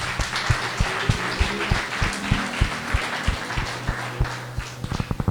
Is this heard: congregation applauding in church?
yes